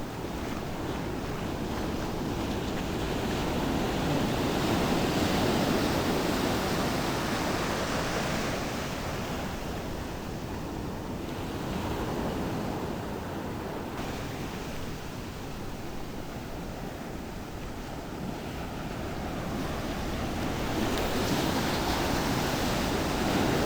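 Ocean surf breaks on a beach as a continuous, broad roar of white water with wind noise, rising and easing gently over the stretch, with no voices.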